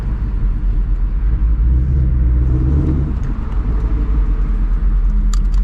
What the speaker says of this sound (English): this thing like really be popping and banging with just an H-pipe